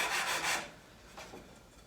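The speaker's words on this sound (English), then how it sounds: "just give a slight taper on the edge of that tenon" A file rasps across the edge of a wooden tenon to cut a slight taper, giving two or three short scraping strokes close by with no one talking.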